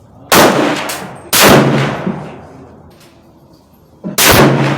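Three sharp, loud gunshots from a Savage Axis II XP hunting rifle ring out close by, each blast trailing off in a rolling echo before the next.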